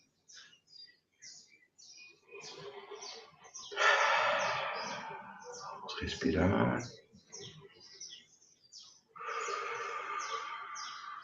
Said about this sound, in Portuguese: Mergulhar nesse canto bonito dos pássaros.